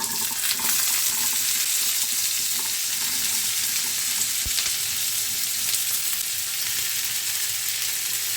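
Green beans fry in hot oil in a pan with garlic, green chilli, ginger, tomato and onion, giving a dense, loud, steady sizzle and crackle that runs unbroken throughout, close up and with no voices.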